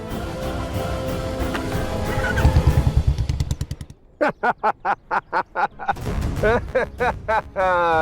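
A motorcycle revs loudly and pulls away, its engine note climbing before it cuts out, then gives way to choppy rhythmic bursts and voices.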